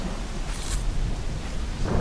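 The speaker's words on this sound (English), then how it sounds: "It is still storming." A thunderstorm in Assassin's Creed IV: Black Flag rumbles in low, sustained thunder beneath steady rain and wind, loud and continuous throughout.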